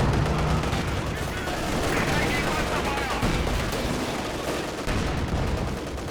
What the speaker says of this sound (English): Trading shots long range.